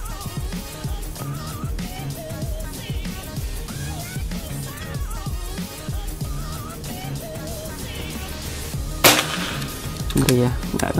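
A single sharp air rifle shot cracks out near the end over a busy background of music and chatter, followed by a brief metallic rattle.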